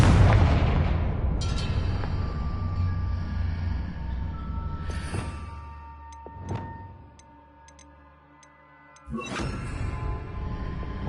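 A Confringo spell blast in a Harry Potter game goes off as a loud burst at the start and decays into a rumbling tail, with further sharp magical impacts and ringing tones near the middle and end.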